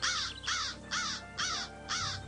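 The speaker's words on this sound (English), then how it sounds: "What is that, a crow?" A crow caws five times in a steady, evenly spaced rhythm, each harsh call clear and fairly close against a quiet outdoor background.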